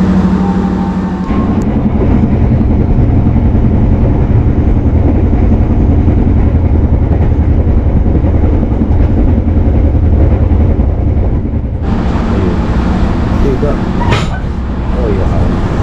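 An Airlangga economy-class train runs from Jakarta to Surabaya, heard from inside as a loud continuous rumble and rattle that stays steady throughout, with a brief sharp screech near the end.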